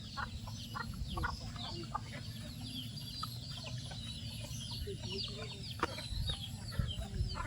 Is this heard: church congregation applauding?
no